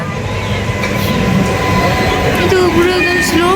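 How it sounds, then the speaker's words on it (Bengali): A train arriving on the Jamui–Jasidih route in India rolls past close by, loud steady rumbling with thin metallic wheel squeals rising near the end. "চলে এসছে আমাদের ট্রেন"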